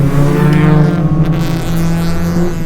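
A Honda Accord Euro R's 2.2-litre H22 engine roars hard and high under load in VTEC, a strained, steady revving drone from inside the vehicle, loud and continuous throughout.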